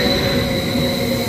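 Steady rumble of a train with a high metallic whine, wheels grinding close by as it rolls into a station in Zurich on a cold morning.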